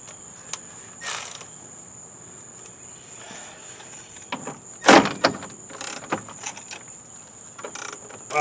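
Wrench working the crusty 7/16 bottom skirt bolts on a 1976 GMC motorhome, close sharp ratcheting clicks and metallic scrapes in short irregular bursts over a steady high whine.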